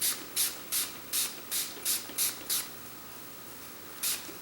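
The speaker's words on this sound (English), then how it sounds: "What I'm going to do is just spray my hair." Hairspray hisses onto freshly curled hair in eight quick, evenly spaced bursts, then one more after a pause; close and fairly soft, with no talking.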